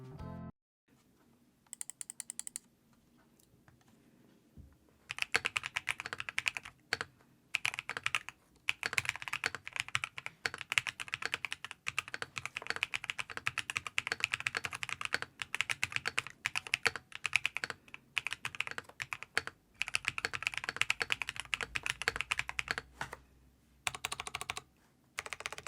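Typing on a stock white Razer BlackWidow V4 75% keyboard with stabilizers and switches fitted: dense, steady runs of crisp keystrokes with short pauses between bursts, close and clear, no talking.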